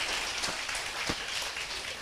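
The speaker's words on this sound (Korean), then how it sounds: "박수 한번 치시죠." An audience at a business seminar claps together in steady, dense applause that runs the full length at moderate loudness, with no talking over it.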